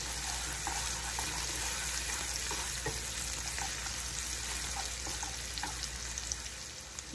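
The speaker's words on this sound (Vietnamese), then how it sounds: "Mình xào cái này cái gốc cho nó thơm, xong mình sau đó mình bỏ cái lá vô sau" Cassava leaves and stems stir-frying in a pan, a continuous loud sizzle with occasional scraping and stirring clicks, and no talking.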